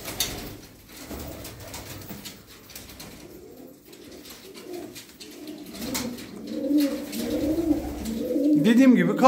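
Young tumbler pigeons in a loft give soft, low cooing that rises and grows louder toward the end, under someone talking nearby.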